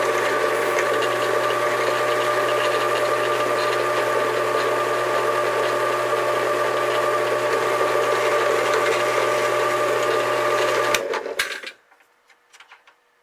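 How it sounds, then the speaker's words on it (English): A BPI roll crimper turns against a shotgun slug shell case locked in a shell vise, giving a steady mechanical whirring drone for about eleven seconds before stopping, followed by a few faint handling clicks. "lock it into the BPI shell vise, and then we go ahead and crimp"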